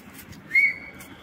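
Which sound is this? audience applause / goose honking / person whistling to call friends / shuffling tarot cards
person whistling to call friends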